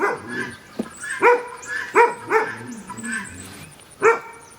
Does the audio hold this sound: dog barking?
yes